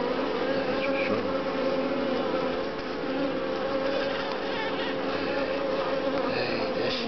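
Bumblebees and honey bees buzz steadily and close, a continuous dense drone with slight shifts in pitch as individual insects move around.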